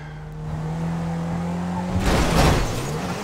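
A car in Grand Theft Auto V drives with a steady engine drone that swells into a loud roaring, hissing burst near the end, close and alone.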